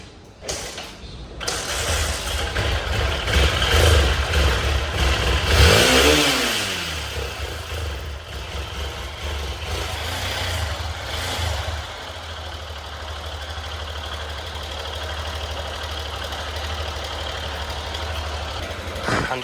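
A Hero XPulse motorcycle left unused for a year and in poor condition starts with a brief rising rev, then settles into a steady, loud idle that runs on alone close by, with a faint puff of light smoke.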